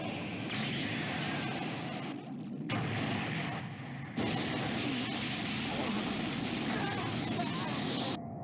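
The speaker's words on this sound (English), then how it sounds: "So he does. Special beam cannon!" Piccolo fires his Special Beam Cannon in Dragon Ball Gekishin Squadra, a loud, sustained roaring blast that cuts off and restarts abruptly several times, with a voice talking over it.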